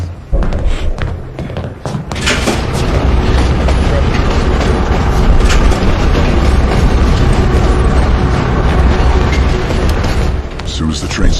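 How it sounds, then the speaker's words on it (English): A moving train in a Call of Duty video game rumbles loudly and steadily with rhythmic clatter and heavy thuds, close by, while people talk over it. "Train's slowing down."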